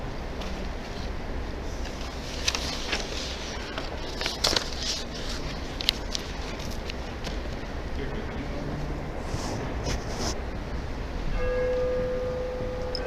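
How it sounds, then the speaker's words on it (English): Church bells ringing faintly in the distance over steady wind and room noise during a city commissioners meeting in Union City, New Jersey, with scattered clanks and murmurs. "You hear those church bells?"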